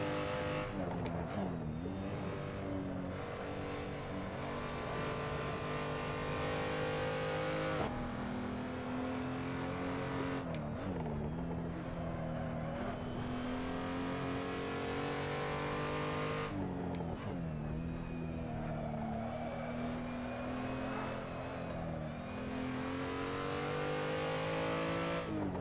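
A race car engine in a sim racing game revs hard and close, its pitch rising through the gears, dropping abruptly at each shift, then climbing again over about 25 seconds, with a faint tire squeal and no voices.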